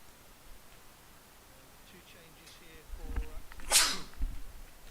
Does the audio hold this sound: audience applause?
no